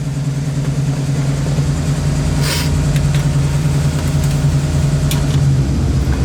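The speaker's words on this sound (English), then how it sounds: "You can hear the air conditioning kick right in." A 1969 Ford Mustang Fastback engine idles with a steady low drone; around the middle a brief hiss and clicks come in as the air conditioning engages while the engine keeps humming.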